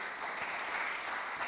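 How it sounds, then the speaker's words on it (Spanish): A brief burst of steady audience applause for panel participants at the close of a discussion, many hands clapping together at moderate volume. "un aplauso para ellos"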